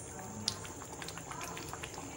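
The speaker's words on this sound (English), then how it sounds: "you can see our beans, it's boiling" A pot of beans boiling on the stove, a steady close bubbling and gurgling simmer with one small sharp click near the start and no talking.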